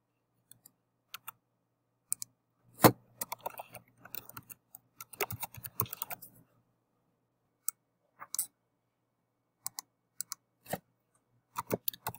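Keystrokes on a computer keyboard while entering code in App Lab: scattered single taps, then a dense run of quick typing in the middle, followed by a few more sparse clicks, close and fairly quiet with no talking.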